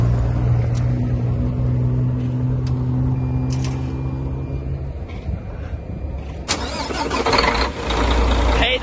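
A truck engine cranks and catches, then settles into a rough, low idle with a broad rumble that swells louder near the end; faint outdoor background surrounds it.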